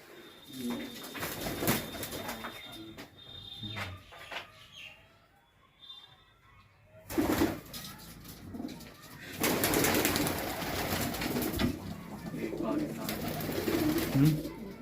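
High flyer pigeons coo in low, soft bursts amid background noise and occasional rustling, with a louder stretch of bird sounds and movement later on.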